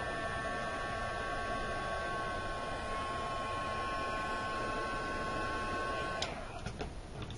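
A heat tool melting embossing powder gives a steady, fairly quiet blowing whir with a faint electrical hum throughout, then cuts out near the end, leaving soft handling sounds.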